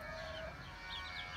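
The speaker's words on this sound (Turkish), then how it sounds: "Teyzemin gurk tavuğu." A broody Gurk hen clucking quietly in a coop, soft low murmuring clucks with a faint tonal call, heard close amid light background noise.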